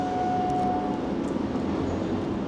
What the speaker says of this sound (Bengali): শিয়ালদা পুরী দুরন্ত এক্সপ্রেস এটা ওই পুরী থেকে এসছে